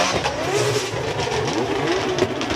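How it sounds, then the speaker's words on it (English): Drift cars at Formula Drift Japan, including a Nissan R35 and a Lexus IS with a 2JZ engine, revving hard in a loud, close, continuous engine wail with pitch sweeps as the cars chase each other. "And all that revving's going on"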